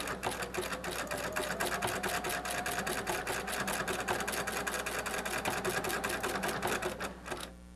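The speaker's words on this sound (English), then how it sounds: "And then the next step is to take it to the sewing machine." A sewing machine runs decorative stitches along the seams of a fabric panel, a fast, even mechanical rattle heard close up before it slows and stops near the end.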